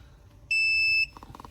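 An Autel MK808BT diagnostic scanner gives a single loud, clear electronic beep lasting about half a second as it is plugged in, followed by faint clicks.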